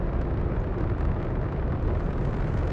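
Laser auto turrets firing in ship combat in the Starfield video game, a steady, dense rumbling barrage of rapid shots with no pauses, loud and continuous throughout.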